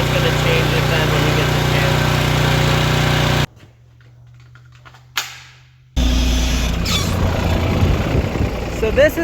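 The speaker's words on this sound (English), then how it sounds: "my one job my mother wanted done was get the tiller started" A tiller engine runs and warms up after being started, its loud steady drone cutting out abruptly partway through and then returning just as loud.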